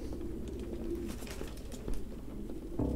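Pigeons coo repeatedly in a cluttered room in Detroit: Become Human, soft throaty calls overlapping one another in a steady murmur, with a slightly louder burst near the end.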